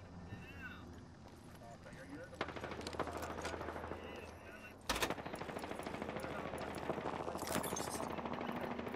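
Gunfire in the battle royale game Apex Legends, with bursts of automatic shots running through the clip among other game sounds, fairly loud and dense, with a sharp burst near the midpoint; a voice speaks over it.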